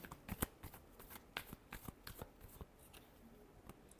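Tarot cards are shuffled by hand in a quiet room, a faint, irregular run of soft riffling slaps and flicks over a few seconds.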